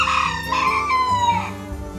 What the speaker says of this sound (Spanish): la jornada comenzaba con el despertar de las gallinas, que son los animales más madrugadores de la finca